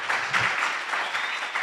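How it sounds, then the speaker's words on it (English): Audience applause after a talk, a short soft burst of clapping from a small group, steady and moderately close with no voices over it. "another word of applause"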